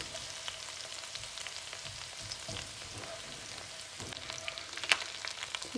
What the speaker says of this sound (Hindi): बस हम लाइट सा ब्राउन करेंगे ताकि इसमें जो है फ्लेवर आ जाए गार्लिक का और जिंजर का।